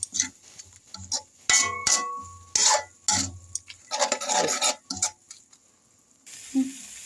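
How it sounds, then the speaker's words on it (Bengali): A utensil scrapes and stirs spice masala frying in a pan with a splash of water for a green jackfruit curry, making irregular rasping strokes and metallic clinks close by, with short pauses between. "এখন ভালো করে মশলাটা ভালো করে কষাতে হবে"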